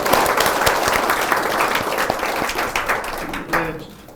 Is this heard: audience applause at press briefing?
yes